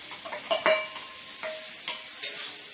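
Hot oil crackles and sizzles as spices are tempered for a banana stem curry, while a metal spoon clinks and scrapes against the pan in quick, irregular strokes.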